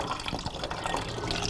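Coolant drains from the water pump of a Honda CBR 1000rr motorcycle, a continuous close trickling and splashing of liquid with no talking.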